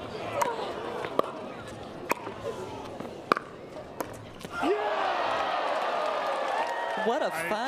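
Crowd at a mixed doubles pickleball match: sharp paddle pops and bounces ring out first, then a loud, sustained swell of cheering and applause rises near the end and holds steadily.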